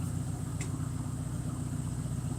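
A car engine idles steadily with its O2 sensor unplugged, a constant low even hum with no variation in rhythm, close and moderately quiet.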